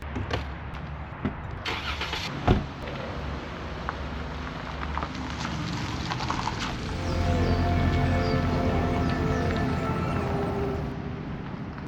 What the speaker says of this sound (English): Crazy that it's the last time driving through this campground.